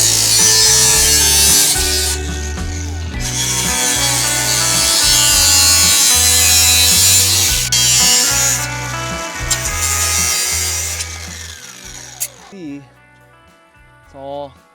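An angle grinder with a flap or sanding disc smooths the raw cut edge of a steel winch bumper, a loud, harsh whirring grind in repeated passes with brief pauses, winding down near the end.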